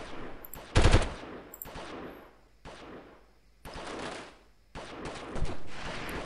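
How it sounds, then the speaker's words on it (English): Incoming gunfire in Delta Force, several separate bursts of rapid automatic shots aimed at the player, with one sharp loud crack early and the rest moderately distant, spaced with brief quiet gaps. "So somebody is almost shooting me"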